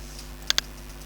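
Two quick sharp clicks of keys on a Dell laptop keyboard, close and crisp, with a faint steady hum underneath and otherwise quiet.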